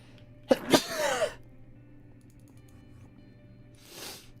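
One loud, close sneeze with a sharp intake and burst, followed after a quiet stretch by a softer breathy exhale or sniff, set against faint keyboard clicks and a low hum.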